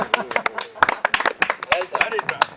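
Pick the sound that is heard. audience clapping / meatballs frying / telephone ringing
audience clapping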